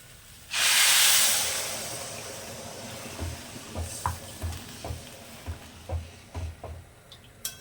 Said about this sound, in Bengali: তো এবার আমরা জলটা ঢেলে দিই